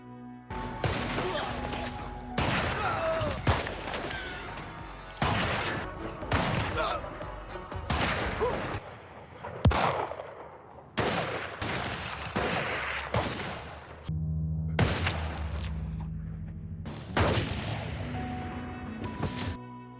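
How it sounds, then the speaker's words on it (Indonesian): Dense gunfire in a film shootout at a border, with a gang trading shots with police: rapid volleys and heavy bursts come back to back across the whole stretch, loud and near, with crashes and thuds mixed in. "Di perbatasan, Hanif dan anak buahnya menembaki kepolisian. Mereka semua terlibat baku tembak."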